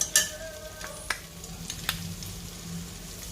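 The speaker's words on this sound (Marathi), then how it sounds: "कांदा छान गुलाबी रंगावर परतून झालेला आहे. आलं लसणाची पेस्ट घालूया." Ginger garlic paste frying with browned onions in a pan for a Khandeshi mutton dish, soft steady sizzle with a few sharp clinks and scrapes of stirring near the start, close and fairly quiet with no voices.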